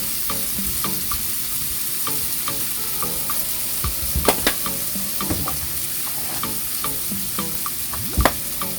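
Onion sautés with spices in a pot for a seafood boil, a close, even sizzle broken by the scrape and knock of stirring, a few louder clanks standing out; no voices.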